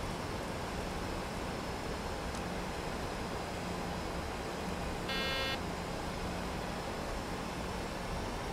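Short electronic alarm tone in the Prepar3D flight simulator, a bright buzzing beep sounding for about half a second over a steady broadband cockpit hiss, with a fainter earlier blip.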